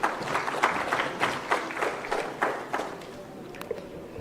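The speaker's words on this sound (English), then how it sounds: "Round of applause, please, ladies and gentlemen." Audience applause at a public finance summit attended by a state chief minister, a burst of crowd clapping that is strongest at first and then thins out, with some scattered claps and shuffling near the end.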